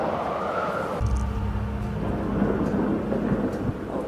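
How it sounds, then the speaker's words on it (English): Thunder rolls over steady rain in the horror game Amnesia, a loud, deep rumble building after the first second and sustained beneath a continuous hiss of falling rain. "Oh shit, it's lightning."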